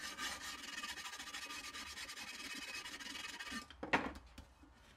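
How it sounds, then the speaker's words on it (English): A hand file rasps steadily across the rough cut edges of insulating fire bricks for a kiln build, a continuous scratchy rubbing that pauses briefly near the end before one last sharper stroke. "any jagged edges will be just filed away afterwards."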